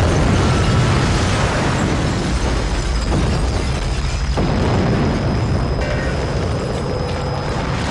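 A dramatized explosion effect for the 1993 Mumbai bomb blasts: a loud, sustained rumbling roar with crackling debris that fills the whole stretch, with no talk.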